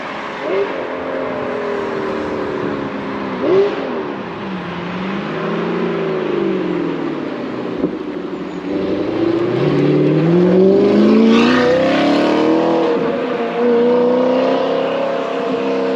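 The V8 engine of an Audi R8 with a manual gearbox rumbles and rises in pitch with quick throttle blips on downshifts, steady and fairly close, with no speech.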